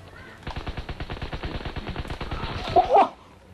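Gunfire in the video game Call of Duty WW2: a loud, rapid automatic burst of shots rattling steadily for about two and a half seconds, ending with a short vocal exclamation.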